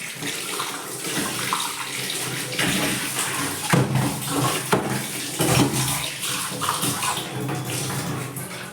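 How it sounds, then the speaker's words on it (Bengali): Tap water runs steadily over a ceramic tea cup as it is rinsed clean in a sink, a continuous close splashing rush that shifts slightly as the cup moves under the stream, with no talk. "মাজা হয়ে গেছে এবার ধুয়ে নিই"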